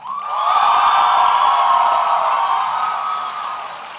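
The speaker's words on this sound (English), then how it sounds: "The second loudest cheer." A large graduation commencement audience bursts into loud cheering, whoops and applause for the senior class speaker, sustained for about four seconds and tapering slightly at the end.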